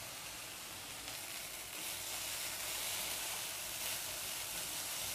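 Okra and onion frying over a high gas flame, a steady bright sizzle and hiss that keeps going without a break, close and fairly quiet, with no voices.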